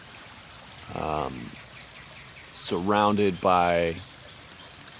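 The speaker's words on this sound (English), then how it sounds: "this little creek is running" A small creek runs outdoors among woodland plants, with a breeze blowing, giving a steady, faint trickling wash that continues beneath a person talking.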